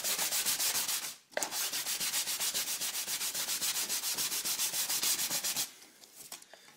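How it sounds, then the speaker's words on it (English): A small hand block sander scrubs back and forth across a wooden rudder rib in steady, rapid strokes, loud and close, with a brief pause early on and softer, slower rubs trailing off at the end. "I just use a little block sander because it doesn't take long to go ahead and get the piece all finished up."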